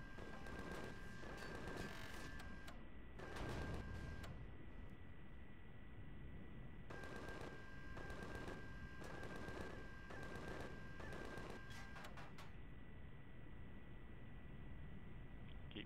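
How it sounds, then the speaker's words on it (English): Gun turrets firing in a space video game, bursts of rapid shots rattling over a constant loud engine-like drone, with the volleys coming in clusters and pauses. "You can start shooting any time you want now"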